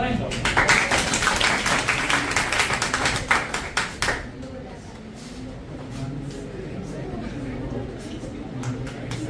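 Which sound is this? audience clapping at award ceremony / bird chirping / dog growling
audience clapping at award ceremony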